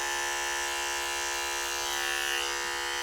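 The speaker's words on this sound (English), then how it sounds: "And I'm attaching the clipper to the comb." An electric hair clipper buzzes steadily as it cuts straight hair over a comb, a loud, continuous motor whine with strong harmonics and no speech.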